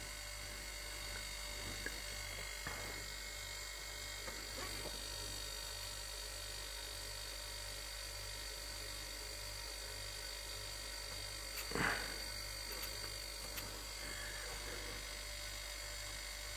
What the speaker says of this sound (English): at least the motor is running now